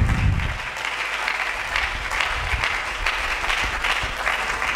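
A church congregation applauds in acclaim of the Lord, sustained clapping from a crowd in a worship hall that fills the room, with no speech over it.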